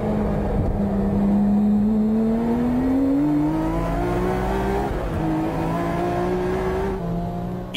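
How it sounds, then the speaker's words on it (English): Mine's-tuned Nissan Skyline R34 race car lapping a circuit, its engine a loud, close, continuous drone that climbs steadily in pitch through each pull, with no voices over it. "The Mine's R34, driven by Arito, is lapping in the 58 seconds range."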